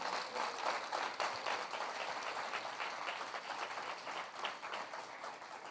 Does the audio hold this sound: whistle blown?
no